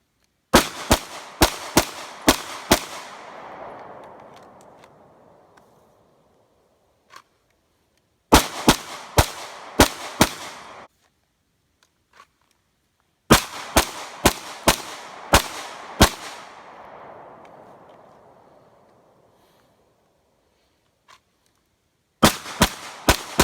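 Sig P320 pistol fired at a range in rapid strings of five to six sharp, loud cracks, each burst ringing out into a long fading echo before the next string, with a few stray clicks between.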